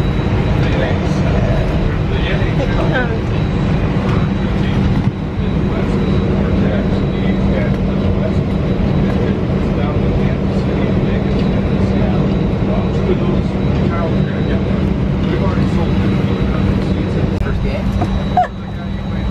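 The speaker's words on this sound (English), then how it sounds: "I'm still on the airplane." Steady low roar of an airplane cabin, a constant engine and air hum with faint chatter and occasional thumps in the background.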